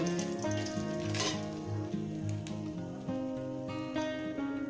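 Four small dried red chilies frying in oil for a few seconds: a faint, crackly sizzle sitting beneath a steady, tonal background.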